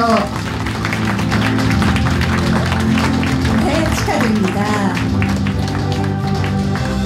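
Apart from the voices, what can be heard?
audience applause for award winners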